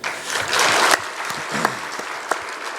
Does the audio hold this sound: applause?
yes